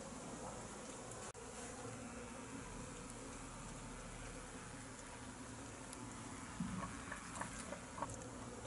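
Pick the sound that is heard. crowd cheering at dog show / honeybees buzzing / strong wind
honeybees buzzing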